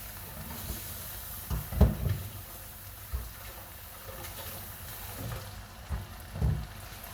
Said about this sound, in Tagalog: Ang ating noodles ay hugasan ko lang ha. Hugasan lang natin, hindi natin ibababad.